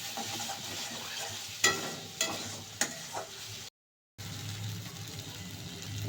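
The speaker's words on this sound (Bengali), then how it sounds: "এই আদা রসুন বাটার পেস্টটা একটু নাড়াচাড়া করে নিই, তারপরে মশলা দেবো।" Ginger-garlic paste fries in a pan with a soft sizzle, broken by several sharp scrapes and knocks of a spoon as it is stirred, followed by a brief silence and then the sizzle again.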